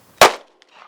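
A single loud, close gunshot from a Guardian 6 defensive pistol, a sharp crack with a quick decaying tail, followed by faint rustling.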